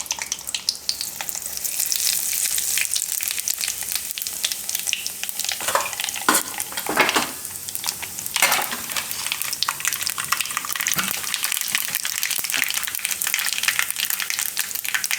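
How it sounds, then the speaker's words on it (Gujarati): Mustard seeds and whole cumin sizzle in hot oil while cooking a Gujarati carrot, radish and potato dish, a steady loud crackle and hiss throughout, with brief sharper pops and stirring scrapes midway. "તો ટમેટાએ આપણે સુધારી લીધા છે અને તેલ આપણું ગરમ થઈ ગયું છે તેલમાં આપણે નાખશું રાઈ અને આખું જીરું"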